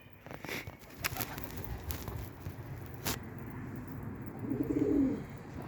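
Pigeons coo on a rooftop in Istanbul on a cold, drizzly evening, a soft low warble swelling near the end over steady outdoor background noise, with a few sharp knocks and a distant car.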